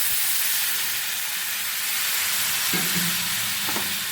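Water poured into a pan of sizzling katla kaliya, a Bengali fish curry, brings a loud, steady broadband hiss of frying and steam that fills the whole stretch, with a few faint thumps near the end.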